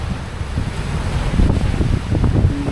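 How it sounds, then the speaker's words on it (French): Storm waves on Baskatong Lake wash and churn alongside gusting wind buffeting the microphone, a loud, continuous rough roar with no voices. "Les belles vagues."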